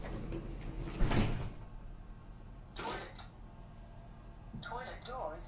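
A toilet door slides on a GWR Class 165 train, a few close rattling scrapes and clunks of the door moving and latching, with quiet carriage hum between.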